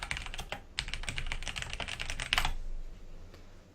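Rapid clattering keystrokes on a computer keyboard, close and crisp for about two and a half seconds, then stopping into quiet room tone.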